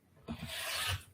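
Quilt-block fabric being trimmed: a single soft, close scraping cut lasting under a second, faint and alone.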